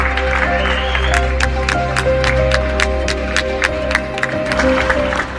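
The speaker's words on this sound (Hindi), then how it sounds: "इटली और स्पेन में तो लोगों ने बालकनी से बाहर निकल के इन लोगों के लिए तालियां बजाई।" People applauding medical staff from balconies in Italy or Spain, a string of sharp, evenly spaced claps ringing out over a loud sustained tonal background, the claps echoing across the street without anyone speaking.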